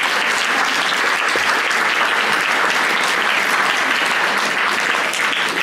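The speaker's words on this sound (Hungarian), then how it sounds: "még egy nagy tapsot" An audience at a public lecture bursts into loud, dense, sustained applause, an even wash of many hands clapping throughout.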